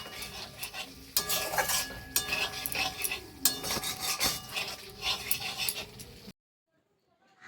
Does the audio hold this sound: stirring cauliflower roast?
yes